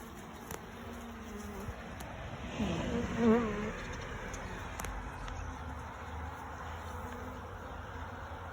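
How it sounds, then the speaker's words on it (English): Honey bees hum in a soft, continuous drone close by around a queen cage, swelling briefly in the middle, with faint outdoor background and no talking. "There's lots and lots of bees on her cage."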